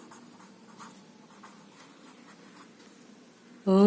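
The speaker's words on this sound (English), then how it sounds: "So first you have to write" Pen or marker writing by hand on a board during a sixth-grade maths lesson on ratio and proportion, a steady run of faint scratchy strokes in a quiet room, ending with a loud abrupt noise.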